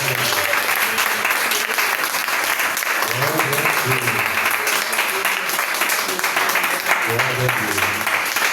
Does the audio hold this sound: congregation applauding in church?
yes